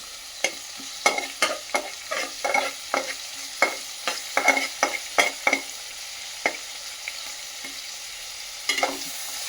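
Onions frying in oil with mustard seeds and cumin, heard as a low sizzling bed under many sharp, irregular clicks and taps of a spoon stirring against the pan, close and fairly loud, with no voices.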